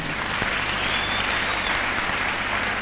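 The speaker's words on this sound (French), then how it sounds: "Acclamons le Seigneur." Church congregation applauding during a sermon, a steady dense clapping that fills the space evenly with no gaps, loud and continuous throughout.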